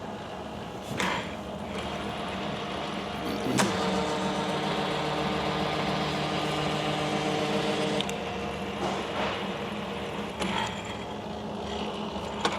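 Cincinnati Milacron Cintiversal vertical milling machine running with a steady mechanical whir and gear hum, punctuated by a few clunks and clicks, moderately loud with no talking.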